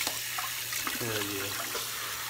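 Tap water runs steadily to wash off shaving cream, a broad close hiss with splashing, while someone talks over it.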